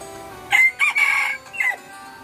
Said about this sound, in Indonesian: Ditemani suara ayam dan burung.